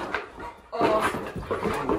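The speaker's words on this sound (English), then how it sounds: "So tell him to bark." A trained protection dog vocalizes on command, giving a short sharp bark-like burst and then a longer agitated whimpering growl, close and fairly quiet.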